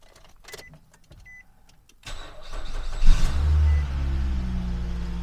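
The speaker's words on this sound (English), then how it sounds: "I'm gonna try to start the engine and see what kind of sound it makes without the belt" After a few faint clicks, a Nissan Rogue engine with the alternator belt removed cranks and catches, revs briefly, then settles into a smooth, steady idle close by.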